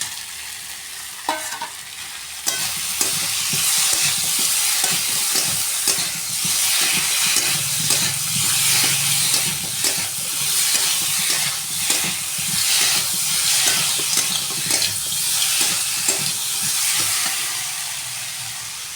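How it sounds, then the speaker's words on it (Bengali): Crab goes into a pan of potatoes fried with spices, and a busy sizzle follows, steady and near, with repeated scraping and clattering stirs throughout and no voices. "এবার আমি যে কাঁকড়াটা আছে কাঁকড়াটা দিয়ে দেবো।"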